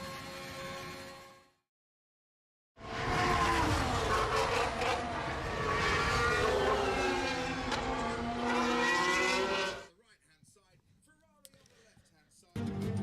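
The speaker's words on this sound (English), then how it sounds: "vastly accelerating now towards the line, 5th gear, 6th gear, 7th gear, open up the DRS, 8th gear as you cross the line" Formula 1 car at the Imola circuit accelerating hard toward the line, its engine note climbing steadily through the gears, loud and continuous for several seconds after a brief silence, then cutting away to quieter background.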